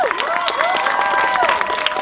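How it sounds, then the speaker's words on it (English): A theater audience applauds during a screening introduction, dense steady clapping and some crowd noise over a couple of seconds, with a whistling tone sweeping through it. "So a round of applause for these guys."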